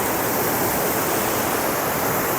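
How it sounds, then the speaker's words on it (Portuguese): Water rushes steadily over smooth, deeply hollowed rock pools at the Pedra do Ingá in Paraíba, a dense, continuous broadband roar that stays close and even throughout with no voices. "o barulho da água está bem acentuado"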